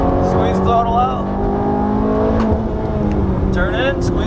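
Ferrari F430 engine on a racetrack, a steady loud drone with rising harmonic tones as it accelerates, heard continuously under an instructor's talking.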